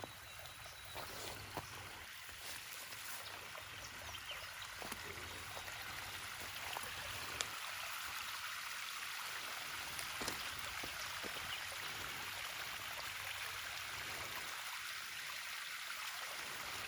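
Water from a stream running across a trail in Apple Creek Conservation Area, Missouri, in spring: a faint, steady flowing wash with scattered light ticks and rustles, heard from nearby outdoors.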